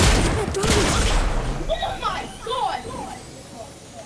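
Rapid bursts of gunfire from a video game match crackle through the first half, loud and dense. Players keep talking over the shots.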